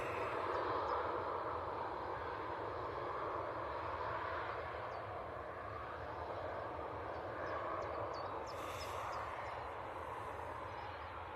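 A Boeing 787-8 Dreamliner in high-density configuration rolls out bound for Mahon, its engines a faint, continuous broadband roar heard from a distance with no talking over it.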